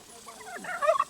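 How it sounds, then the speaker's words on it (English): A turkey gobbles outdoors, a short rising burst of rapid warbling calls that peaks near the end, fairly faint and heard alone. "we're going to assume there's another turkey hidden out here somewhere"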